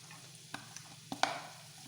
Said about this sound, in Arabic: دابا غادي نزيد الكورجيت القرعه الخضراء